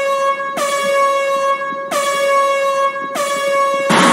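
Crowd members at a Pinnacle Wrestling show blast air horns ringside, three loud sustained blaring honks in close succession, each restarting sharply, with a noisy burst of crowd sound at the very end.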